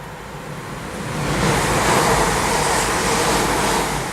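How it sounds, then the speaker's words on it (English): A train passes nearby on a walk, a broad rushing roar that swells after the first second and holds steady and fairly loud to the end, with no talk over it. "There's a train!"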